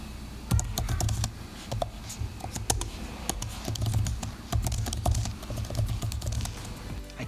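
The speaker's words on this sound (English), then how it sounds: "The keyboard typing experience is really nice." Close, steady typing on an Apple Magic Keyboard for iPad Pro, a quick run of crisp key clicks with a few louder taps mixed in, with no voices.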